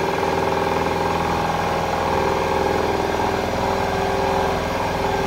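A Harrison milling machine drives a 3-inch fly cutter through a deeper cut with chatter, making a loud, continuous, buzzing hum with a fast rhythmic pulsing. It runs close and steady, with no voices.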